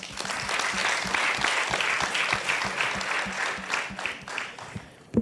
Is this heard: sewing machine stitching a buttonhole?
no